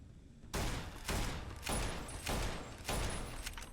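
Gunfire in the video game Fallout: New Vegas: a run of about five loud, evenly spaced booming shots with short decays between them, heard close with no speech.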